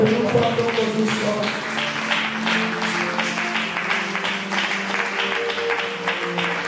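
A church congregation applauds the Lord with sustained, dense clapping, mixed with voices and musical tones throughout.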